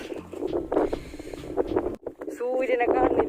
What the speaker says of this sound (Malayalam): പിന്നെ അത്യാവശ്യം നല്ലോണം കാറ്റുണ്ട്.